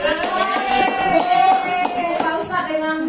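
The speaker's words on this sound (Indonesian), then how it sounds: "kita kasih tepuk tangan ya" A group at a school teacher training session claps hands together in a steady, dense patter of applause, fairly close and lively, lasting throughout without a break.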